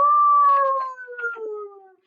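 A storyteller's voice imitates a howl: one long, sustained, slightly wavering tone that slowly falls in pitch and fades out after about two seconds.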